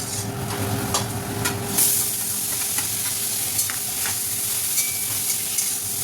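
Tomatoes and spices for dhaba-style dal fry stirred and frying in a pan, a loud steady sizzle broken by repeated scraping stir strokes, close up with no talking.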